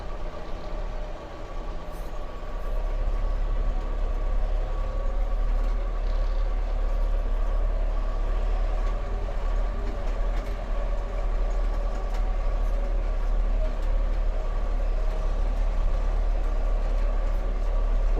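A DTZ 5504 tractor drives home along a rough, uneven road, hauling a 510 kg seeder. Its engine gives a steady, close, low drone with a rattling rumble that continues unbroken.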